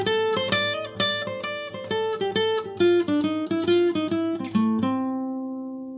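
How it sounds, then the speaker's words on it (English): Bebop jazz lick in a fast, continuous run of bright, clearly articulated notes, played at full speed and ending on a held tone, close and alone without talk. "first I'm going to demonstrate this lick for you at full speed,"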